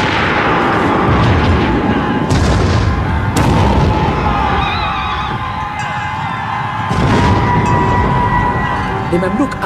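Deep booming Napoleonic-era cannon blasts rumble repeatedly through dense battle noise against charging Mamluks, loud and continuous, with a few sharper bangs standing out.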